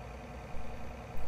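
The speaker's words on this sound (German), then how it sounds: "Achso, ich muss ja den Motor starten, sonst läuft hier nichts." Vehicle engine idling in Farming Simulator 19, a steady low rumble running alone throughout, with a slight rise in level near the end.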